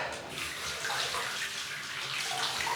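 Tap water runs steadily into a sink while hands are rinsed under it, a close, even splashing hiss with slight shifts in the flow and no speech.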